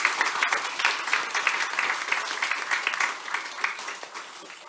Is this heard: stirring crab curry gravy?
no